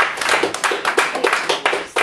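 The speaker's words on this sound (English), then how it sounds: "Now, you guys, by applause, are they a good team?" Audience applause for a team at a school-themed show, a steady patter of many hands clapping up close, loud and continuous with a few sharper individual claps standing out.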